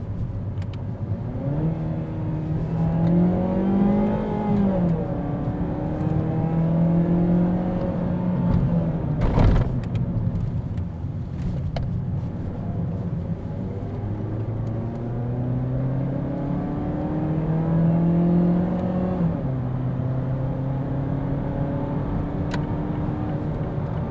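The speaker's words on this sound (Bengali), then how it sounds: "এত সুন্দর সাউন্ড আসে ইঞ্জিনের, আর 6 স্পিড ট্রান্সমিশনটা ইনসেইন" A 2019 Mazda Axela with a six-speed transmission revs and accelerates, its engine note rising through the gears in repeated climbing sweeps, heard steadily from inside the car with no talking.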